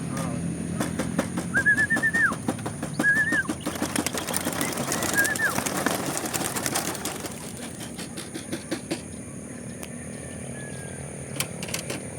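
Racing pigeons coo and wings flap outdoors as they are released while someone talks over the birds, the fluttering fading into quieter background.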